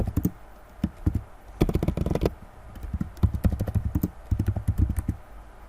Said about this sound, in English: Now let's try to type something in here.